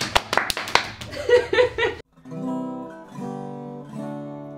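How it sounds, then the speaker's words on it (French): A short burst of scattered hand claps with some voices at a secondary school election speech, then a sustained tonal sound takes over. "On l'applaudit."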